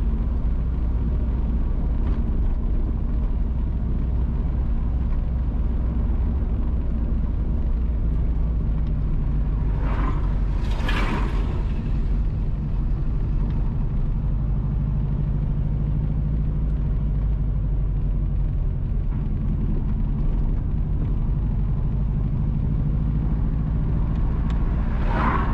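Car driving on Cool Spring Road in St Mary, Jamaica, a steady low engine and road rumble from inside the vehicle, with a brief louder whoosh midway and no talk.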